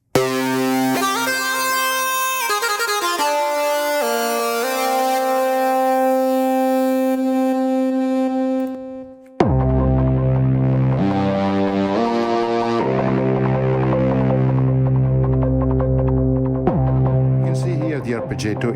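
A bright synthesizer lead from the UVI HX-ODDY vintage synth plays rapid arpeggiated note patterns, loud and continuous, with a brief dropout midway before a fuller, richer lead resumes.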